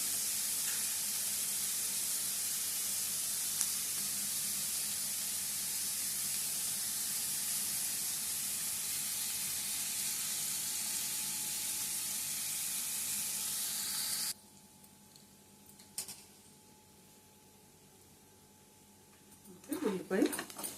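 Onions fry in oil for a ridge gourd and milk curry, giving a soft, even sizzling hiss that runs for most of the time and then cuts out, leaving near silence with a few small kitchen clatters.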